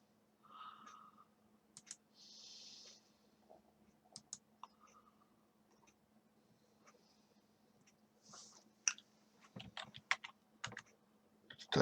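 Keys tapped on a computer keyboard in a quiet room: scattered soft clicks, then a denser, quicker burst of typing near the end, faint and close, with a low steady hum underneath.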